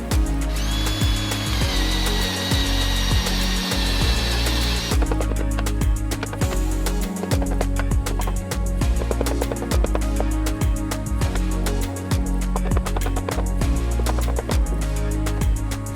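Power tool chewing through a timber frame beam to cut a through mortise, a loud, continuous drilling drone with rapid rhythmic chatter and pitch shifts as the bit works the wood.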